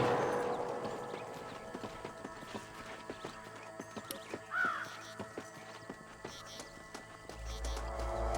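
Horse hooves clip-clop in a steady, close rhythm in the video game Red Dead Redemption, with faint background ambience and a brief distant call.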